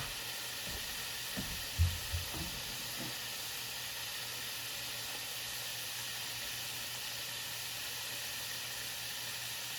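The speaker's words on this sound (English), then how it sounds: "So we're gonna put them in for a second fry." Chips going in for a second fry in hot oil give a steady hiss and fizz, with a few low bumps and clunks near the start before the even sizzle settles in alone.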